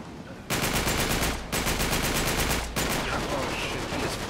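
Sustained automatic gunfire from a machine gun in Uncharted 3: Drake's Deception, loud and continuous in long bursts with brief breaks, dense and close throughout.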